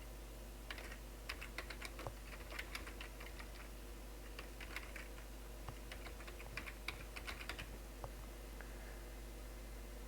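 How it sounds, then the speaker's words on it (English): Fingers tap out a domain name on a computer keyboard in a steady run of quick, light keystrokes, close and fairly quiet against a low steady hum, with no voices. "type any domain you would like to register, and I will type dailyhustleblog.com."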